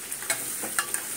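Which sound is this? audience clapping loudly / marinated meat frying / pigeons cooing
marinated meat frying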